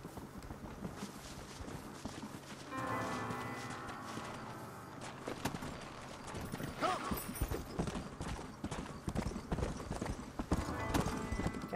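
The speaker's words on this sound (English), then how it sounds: "Come on, horse." Horse hooves clip-clop at a steady walking rhythm in the Western video game Red Dead Redemption, close and continuous, quickening slightly as the horse moves on, with soft background game ambience and no talking.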